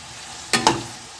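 A medium tomato and six slit green chillies dropping into a hot pan, two quick sharp clatters over a faint low sizzle.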